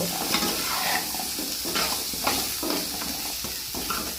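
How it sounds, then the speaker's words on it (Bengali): Potatoes frying in oil in a pan with a continuous close sizzle and hiss, broken by repeated stirring scrapes at a loose, irregular rhythm. "আলুগুলো আমি ভেজে নেব"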